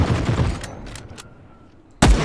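Gunfire in the video game The Cycle Frontier comes as a rapid burst of shots at the start, a few separate cracks around the middle and another loud shot near the end, all fairly close.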